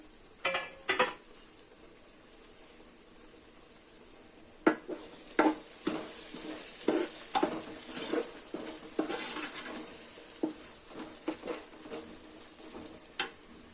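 Fish curry ingredients frying in oil in a pan, with a steady sizzle throughout and a series of sharp, scraping stirs and clinks of the spoon against the pan, close and fairly loud, with no talking.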